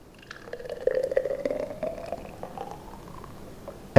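A mixed amino acid drink, thin like juice, is poured in a kitchen, giving a steady soft liquid stream for about four seconds with a faint gurgle, no talk.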